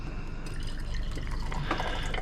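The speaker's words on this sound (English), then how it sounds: "And I'll pour off this nitric acid" Nitric acid is poured off from a vessel during gold recovery, a close, steady trickling splash of liquid with a few brighter drips toward the end.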